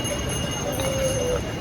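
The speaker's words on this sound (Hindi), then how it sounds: "ये देखो घोड़े भागते हुए।" Horses on the busy mountain trail from Sonprayag to Kedarnath clip-clop briefly in a quick irregular rhythm, moderately close, amid crowd noise and talk.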